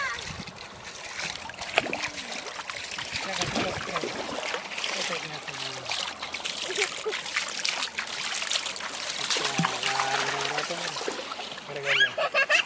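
Water trickles and splashes at a river in Konkan, with people talking over the flowing sound.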